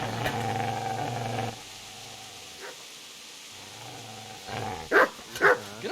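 A dog barks in the medieval game Kingdom Come: Deliverance: two sharp, fairly close barks near the end, after a droning background tone that drops away partway through.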